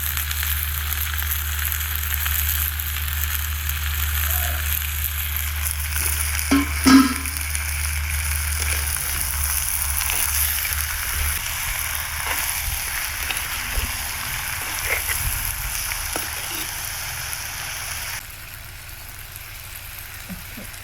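Onions frying in oil in a pan for Madurai-style onion curry, a steady close sizzle running throughout with occasional stirring clinks and scrapes, easing slightly quieter near the end.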